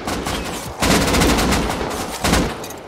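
Automatic weapons fire in an online shooter video game, dense rapid bursts with a brief lull and then a renewed loud volley, close and continuous.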